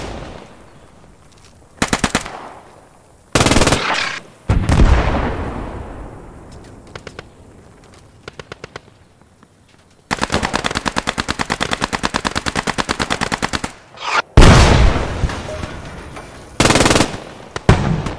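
Bursts of machine-gun and rifle fire in a Post Scriptum battle at Arnhem, with long rattling volleys, sharp single shots and heavy impacts, loud and close, interrupted by brief quieter gaps.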